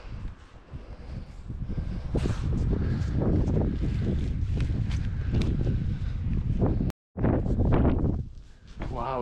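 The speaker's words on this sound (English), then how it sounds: "the wind conditions are extreme up here on the hill" Strong gusting wind batters the microphone on a hilltop in Glenisla, Scotland, loud and continuous with rough buffeting surges, briefly cut out once, while a person talks over it.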